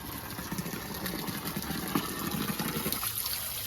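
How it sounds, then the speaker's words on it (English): Water from a natural spring in the Rocinha favela in Brazil pours in a steady, continuous gush, close by and moderately loud throughout. "This is the natural source where everybody get their water."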